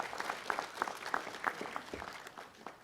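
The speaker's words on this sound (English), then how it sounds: "Please give him a nice round of applause." An audience at a Las Vegas city council meeting claps steadily in a dense, even round of applause, heard at moderate volume from some distance, with a few louder individual claps standing out.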